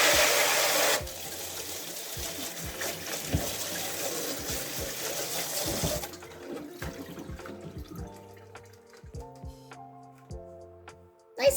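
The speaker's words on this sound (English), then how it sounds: "I'm just going to give them a quick rinse with some warm water." Running warm water gushes loudly at first, then continues as a steady stream with light clattering of plastic seed-starting trays being rinsed underneath.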